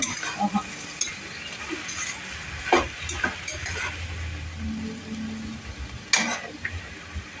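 Spices for tempering crackle in hot oil inside a cooking pot, giving a fairly quiet, uneven sizzle with scattered sharp pops and a faint low hum. No one talks.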